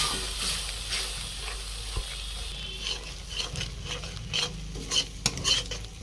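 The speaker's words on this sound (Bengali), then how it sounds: "মশলা কষাতে কষাতে যখন মশলা থেকে তেল ছেড়ে যাবে" Spice paste with ground cashew and raisin paste sizzles and fries in a pan, with steady stirring scrapes and clinks of a utensil against the metal over a constant close sizzle.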